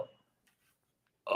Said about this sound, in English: And we got a burp.